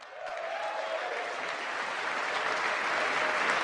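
Sustained applause from a large audience at the State of the Union address, steady and dense throughout and swelling slightly toward the end, with no voices standing out.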